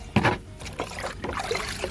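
About 2.5 litres of water sloshes and splashes into a 10-litre bucket in a home garden, an uneven run of close, fairly loud pours and dribbles over a couple of seconds.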